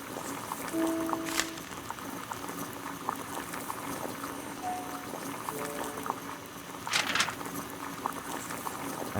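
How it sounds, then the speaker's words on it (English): Water heating to a boil in a kettle on a gas burner in a detective adventure game, a steady bubbling hiss with a couple of brief brighter surges, no talk. "Boil water in kettle."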